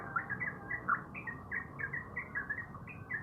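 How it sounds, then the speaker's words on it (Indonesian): Outdoors, a bird calls with a rapid string of short, bright chirps in an uneven rhythm, fairly close and clear over soft background noise. "burung ya, wik wik wik wik wik ya, enak bener ya"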